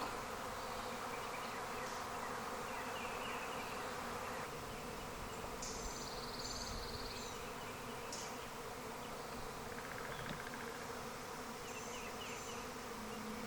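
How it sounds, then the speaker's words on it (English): A honeybee swarm hangs in a tree above the beehives, filling the air with a dense, continuous buzzing hum that holds steady throughout, outdoors and without any voices. "They're still right above the beehives. It's the biggest part of the swarm."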